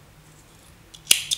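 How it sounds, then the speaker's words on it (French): Scissors snip through crochet yarn in two quick, crisp cuts near the end, following a stretch of near silence. "je vais couper le fil"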